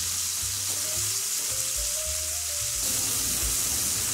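Lamb sears in a hot pan for a lamb and couscous salad, giving a steady, close, loud sizzle with low clunks and rumbles underneath and no voices.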